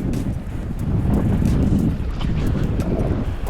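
Strong wind buffets the microphone on an open fishing boat off Australia, a steady low roar with gusty swells that never lets up, heard on its own.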